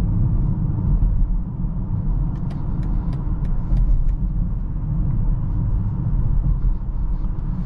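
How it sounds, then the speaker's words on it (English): A 2024 BMW X7 40i, a large heavy SUV, accelerates in sport mode while merging onto a highway, giving a steady loud engine drone and road rumble from inside the cabin throughout, with a few faint ticks over it. "since we're merging on the highway, I'm gonna go into sport mode here"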